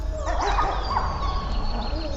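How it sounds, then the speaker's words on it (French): Gray wolves fighting sound like loud, close, continuous snarling and growling mixed with sharp yelps and whimpers. "Bagarres et grognements sont donc fortement perceptibles et audibles."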